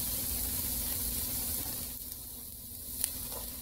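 Onion added to oil with partly cooked vegetables for Chinese-style fried rice, sizzling loudly and steadily up close, the hiss easing slightly toward the end with a brief sharp crackle.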